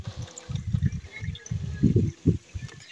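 Water is poured from a cooler at a building site where workers are laying bricks, a run of low gurgling, splashing bursts in uneven spurts, close up.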